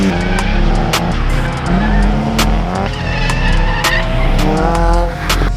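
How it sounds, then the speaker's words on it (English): A Nissan S15 Silvia with a welded diff drifts, its tires squealing loudly and continuously. The engine roars and revs alongside the squeal, close and dominant throughout, with no talk. "Today we are going to show you guys what it's really like to drift an S15 Silvia."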